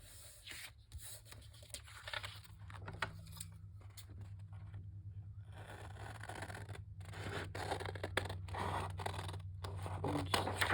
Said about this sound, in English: I'm just trimming around my card